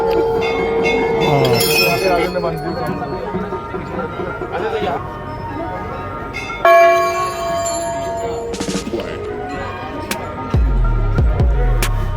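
Temple bells at Kasar Devi in Binsar, Uttarakhand, where thousands of small and large bells hang: repeated bright metallic rings and clanging strikes with long shimmering tails and overlapping tones, loud and near, with voices talking underneath.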